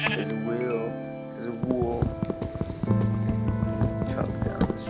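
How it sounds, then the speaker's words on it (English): In the video game Minecraft, a sheep bleats with a wavering, tremulous call near the start, followed by clattering blocky game sounds and thuds. "I don't see any sheep here. Oh, here's one."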